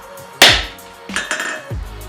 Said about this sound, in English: if I just forged it out with the flat of the hammer